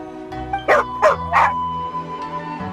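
A dog in the game Genshin Impact gives three short, sharp barks in quick succession, close and fairly loud, over a steady hum of game background music.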